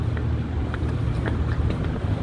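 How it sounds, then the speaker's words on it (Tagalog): Strong wind buffets the microphone outdoors in Barcelona, Spain, making a continuous low rumbling roar with gusty bumps and faint crackles throughout, with no speech heard. "Lakas ang hangin."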